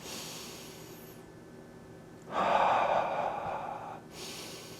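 Deep, steady breathing while holding a latissimus dorsi stretch, a loud airy exhale building after a quiet stretch and then easing off, close to the mic with no talking.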